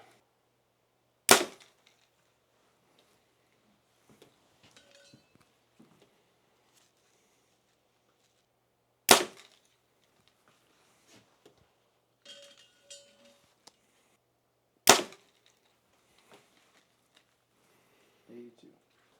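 Three sharp, isolated snaps from a 2025 BEAR Adapt 2 HP compound bow release, spaced several seconds apart, with faint shuffling and small clicks in between.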